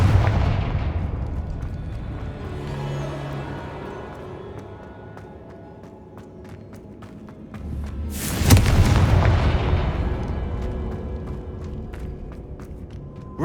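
Confringo fire-spell explosions in Hogwarts Legacy: deep rumbling booms that swell and fade, with a sharp, loud blast about two-thirds through followed by a crackling, decaying tail.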